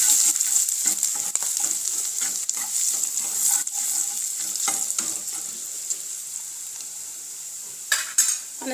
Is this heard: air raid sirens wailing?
no